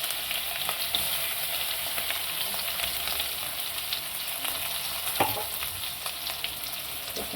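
Spice paste with a pinch of carom seeds sizzling and frying in a pan for bread pakoda filling, a steady crackling hiss with occasional stirring scrapes and small pops, close and continuous.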